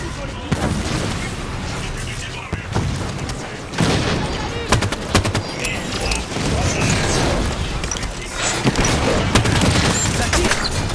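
Gunfire rattles through a Halo 5 campaign battle, with dense bursts and sharp shots crackling continuously and loudly alongside game effects while voices speak in French.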